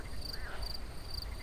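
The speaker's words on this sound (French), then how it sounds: "Il y a des grenouilles qui chantent, des crapauds qui croissent." A night chorus of frogs and toads croaks steadily, with shrill, continuous trilling layered over a low, busy background.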